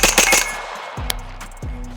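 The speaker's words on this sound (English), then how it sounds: "see how quick I can get 5 shots here." Rapid shots from a blowback AR-9 rifle, several sharp, loud cracks fired in quick succession, each followed by a brief ringing decay, close up and without speech.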